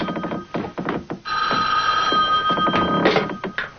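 A telephone bell rings in a steady, loud burst lasting a few seconds, with a bright electronic trill, and sits alone without talk.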